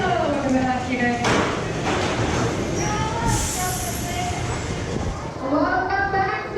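An amusement park ride train rumbles along its track at Worlds of Fun with a steady mechanical roar, loud and close, with people talking over it.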